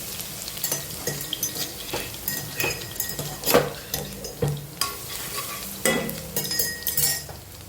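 Garlic sizzles in hot oil in a home kitchen pan as a vegetable dish is started, with a steady crackling fry broken by several sharp clinks and scrapes from a spoon stirring against the pan.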